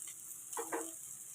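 A steady hiss of mung dal paratha sizzling in a hot pan, with a brief clatter partway through.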